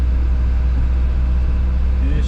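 An Isuzu NPR truck engine revs and drones loudly and steadily throughout while its wheels spin in snow, with low rumbling dominating and a brief rising whine near the end.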